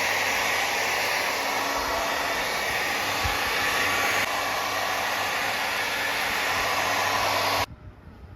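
A hair dryer blows with a loud, steady whooshing roar for most of the time, then cuts off abruptly near the end, leaving a quiet room.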